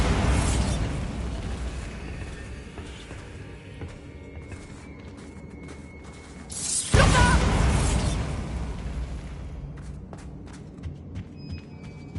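A Bombarda spell explosion in a Hogwarts video game: a sudden loud burst around the middle that rumbles and fades, over steady game ambience and a few mechanical clicks afterward, with no talking.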